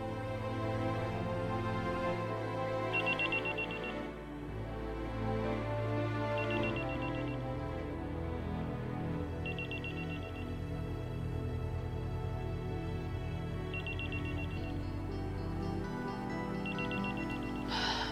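A mobile phone ringtone rings repeatedly from a repeated call, short bright tone bursts recurring every few seconds over a steady background of music and ambience, with no talking.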